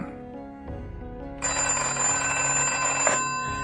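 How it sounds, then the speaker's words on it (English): A telephone rings in a radio mystery drama, bright and insistent, rising suddenly over a quieter background and sounding continuously for a couple of seconds before cutting off, with no one speaking. "Until the telephone rang."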